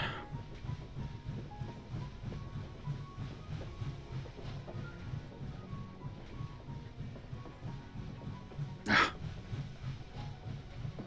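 Train rolling along in the VR shooter Hot Dogs, Horseshoes & Hand Grenades, a steady low rumble with rhythmic clacking throughout and one brief sharp burst near the end.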